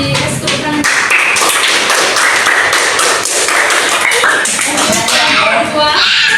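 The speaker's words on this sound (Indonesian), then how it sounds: "Kasih tepuk tangan." Classroom applause from students after a group presentation, a dense patter of hand claps and taps filling the room steadily, with voices mixed in.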